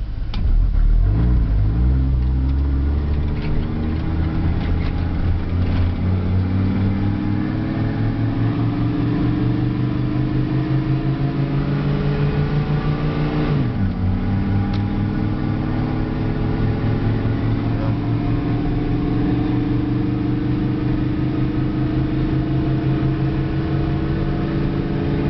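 A Ram truck running on a wood gasifier with no gasoline pulls away and accelerates steadily, a loud continuous engine drone heard from inside the cab, rising in pitch through gear changes.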